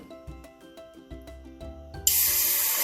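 Water poured into a hot pot during a children's heat-transfer science demonstration sets off a sudden loud steady hiss of steam that takes over after a couple of seconds of quieter clinking and background sounds.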